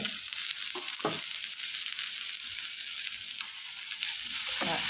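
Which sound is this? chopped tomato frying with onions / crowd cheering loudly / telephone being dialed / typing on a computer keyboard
chopped tomato frying with onions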